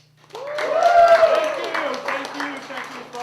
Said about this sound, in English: You guys all have to clap like somebody just introduced me like 2 seconds ago.